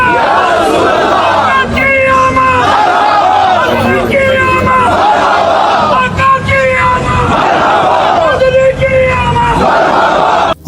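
A loud crowd at the Prophet's mosque chants a religious slogan in rhythmic, repeated waves of massed voices, each call rising and falling in a steady cadence.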